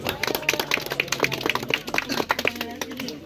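Members of a Tharu community in a Bahedwa village clap their hands in welcome, producing a steady run of crisp, fairly close claps with a murmur of background voices.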